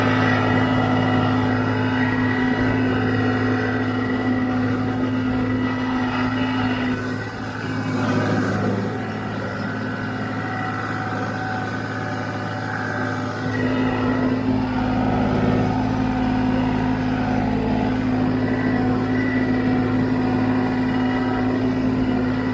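Tractor in low range, fourth gear, running a PTO-driven fertilizer spreader at 540 RPM on a hay field, a steady droning engine with a constant mechanical whine, heard close and continuous throughout with a slight dip midway.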